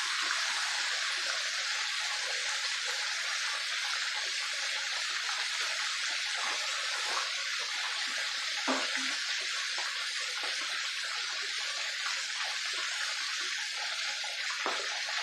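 Chicken fries in hot oil, a dense, steady crackling sizzle that stays loud and unbroken throughout with only faint incidental clicks and no talk.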